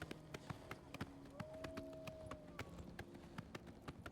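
Horse hooves gallop in the video game The Elder Scrolls IV: Oblivion, a quick, regular clip-clop of sharp taps repeating through the whole stretch, faint and fairly close.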